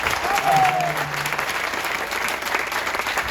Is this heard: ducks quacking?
no